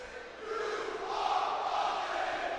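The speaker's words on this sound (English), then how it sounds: "And now the Prep crowd saying some things to Neri." A student crowd at a high school varsity basketball game between St. Joseph's Prep and LaSalle College High School shouts at an opposing player, a dense sustained roar of many voices filling the gym and swelling slightly midway.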